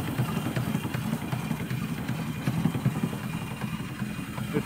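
A small steam engine with a boiler and a brand-new pump with a 1-inch ram runs steadily close by, a busy clattering chuff with rapid mechanical ticking over a low rumble and no voices.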